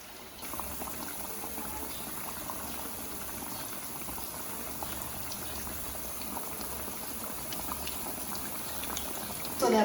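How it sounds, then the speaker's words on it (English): Bhajias, Indian fritters, frying in oil, giving a steady bubbling, boiling-like sizzle that stays fairly even throughout, with a slight rise right at the end. "we're frying our bhajias in good oil"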